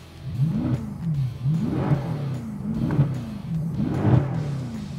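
A 2014 Mercedes C63 with Fi-Exhaust set to race mode gives a series of rhythmic revs, four or five rising and falling engine pulls with a deep burbling exhaust.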